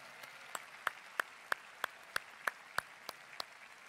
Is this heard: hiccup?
no